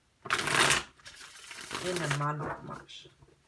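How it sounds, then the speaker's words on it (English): Tarot cards are shuffled in a quick riffling burst close to the microphone, and a person talks over and around the shuffle. "One last shuffle."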